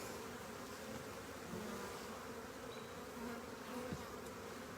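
Honeybees buzz at a beehive in a dense, steady drone, with occasional individual bees passing close by, and no voices.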